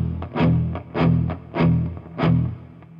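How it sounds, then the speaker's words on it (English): An electric guitar goes through an amp-sim plugin with a Tube Screamer overdrive in front, playing a tight, chugging low-string riff. Punchy distorted palm-muted bursts come in a steady pulsing rhythm, close and loud. "And now, if I play that same sort of chugging part with the Tube Screamer on, it sounds like this."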